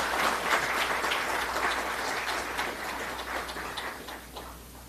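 An audience at a live Indian Army leadership event claps in a steady, moderately distant round of applause that holds, then slowly thins toward the end.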